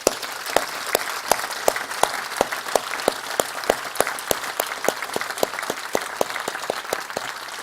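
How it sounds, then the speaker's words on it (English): A conference audience claps in sustained applause at the close of a health event session, with dense, even clapping and sharper individual claps punctuating it throughout. "please give a big round of applause to everyone who's made this happen"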